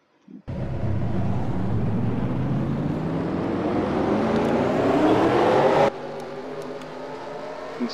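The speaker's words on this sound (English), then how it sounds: "Drivers, start your engines!" Race car engines at the start of a Nashville race fire up and rev together, a loud rising whir and roar that holds for several seconds, then cuts to a lower idle.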